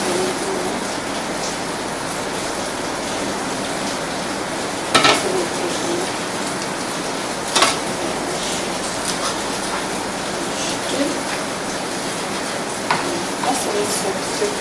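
Stock with garlic, ginger and onion boiling in a pot for fried rice, a steady loud bubbling hiss with a few brief clinks, continuous throughout.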